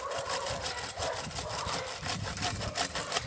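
Chainsaw cutting into a tree, a continuous raspy buzzing drone with gritty wood-chewing texture, loud and close, with no speech over it.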